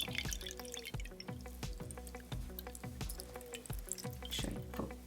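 Dandelion syrup liquid drains slowly through cheesecloth. Quiet, close drips fall in an irregular patter, with faint trickling between them.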